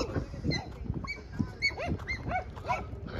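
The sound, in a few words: dogs making noise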